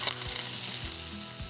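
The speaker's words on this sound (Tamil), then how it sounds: "தாளிச்ச கடுகு இதில் போட்டுடலாங்க." Tempered mustard seeds being tipped into hot tiffin sambar, giving a brief bright crackling sizzle at the start that fades into a steady hiss with a few soft knocks.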